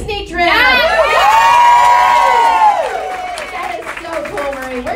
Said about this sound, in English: We're cheering for you, okay?